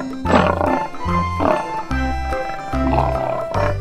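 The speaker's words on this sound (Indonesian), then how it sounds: "Wow, ini seekor harimau." A toy tiger plays a loud recorded roar, with three or four growling roars separated by brief pauses and no talk over them.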